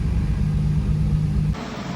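A tuned Nissan Skyline running on E85 fuel idles steadily with a low, rumbling engine note for about one and a half seconds, then the sound drops slightly to a quieter, rougher idle.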